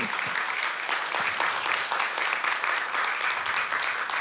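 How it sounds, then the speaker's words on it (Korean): A church congregation applauds during a Sunday sermon, a steady, full round of clapping that fills the room at an even level throughout, with some individual claps standing out. "그 하나님께 영광의 감사의 박수를 드리고 싶어요."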